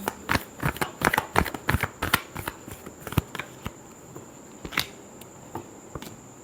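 Tarot cards shuffled by hand in a quick run of crisp riffling snaps, clustered densely at first and then thinning to scattered single flicks, close and fairly loud with no talking.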